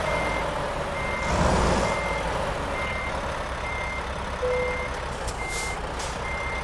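Reversing beeps from a Mack Anthem truck in American Truck Simulator repeat in a steady, evenly spaced pulse throughout, over a constant engine hum, with a brief hiss midway.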